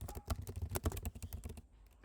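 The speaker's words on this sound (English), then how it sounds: "So here I might type grandma's mac and cheese." Rapid, close typing on a computer keyboard, with a quick burst of crisp key clicks that thins out toward the end, and no talking.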